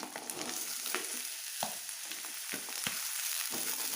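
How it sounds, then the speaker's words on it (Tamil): Chopped vegetables sizzle steadily in a hot pan while a utensil stirs and scrapes now and then, close and fairly quiet. "சேர்த்து இப்படி நல்லா வணக்கி விடுறேன்"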